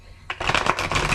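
A deck of tarot cards is handled up close in a quick flurry of crisp riffling snaps and papery ruffles that starts abruptly and runs in rapid bursts to the end.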